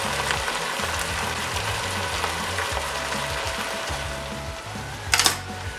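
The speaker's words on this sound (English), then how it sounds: "we're going to add about 2 tablespoons apple cider vinegar. And that's going to deglaze the bottom of that pan." Apple cider vinegar hits a hot pan to deglaze it for birria, a steady loud sizzle and crackle with a rhythmic low scraping beneath, then a brief sharp hiss burst near the end.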